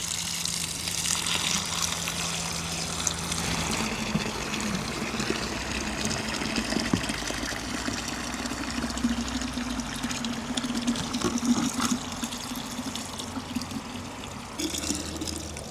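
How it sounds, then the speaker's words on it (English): Reverse osmosis water runs steadily into a bucket, a continuous close splashing and gurgling fill that deepens slightly as the level rises, with no speech over it. "we're just going to be filling the bucket until just off the top."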